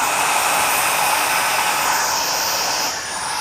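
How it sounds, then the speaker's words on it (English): Dyson Micro 1.5kg cordless vacuum cleaner running at max power while sucking up oats, a loud, continuous high-pitched whoosh that holds steady and dips slightly near the end. "That is a ton of suction for a tiny little vacuum."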